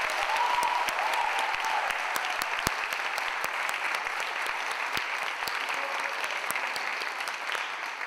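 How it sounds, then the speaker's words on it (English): Audience at a Winton Woods High School graduating-class event applauds the parents, a steady wash of many hands clapping at moderate volume throughout, with a few sharper individual claps standing out. "If we could give them a round of applause."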